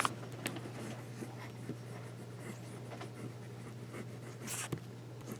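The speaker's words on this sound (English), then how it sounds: "we'll do a little bit of writing with the Jinhao" A Jinhao 159 fountain pen scratches across paper up close, a faint continuous scraping broken by a few brief louder strokes and lifts, with no speech.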